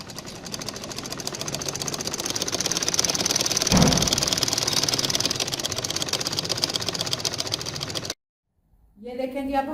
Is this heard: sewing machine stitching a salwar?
yes